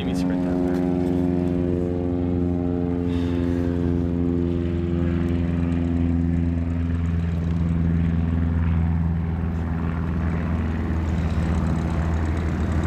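A small single-engine propeller airplane drones at a steady, loud pitch on a first solo flight, with the engine dominating throughout and voices present beneath it.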